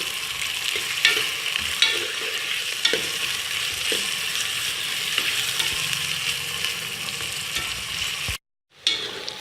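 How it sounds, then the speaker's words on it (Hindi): Onions sautéing lightly in oil for haleem, a steady close sizzle with occasional stirring clinks and scrapes, briefly cutting to silence near the end. "ये प्याज हमने थोड़ा सा ऑयल में हल्का सा हमने सौते कर लिया है"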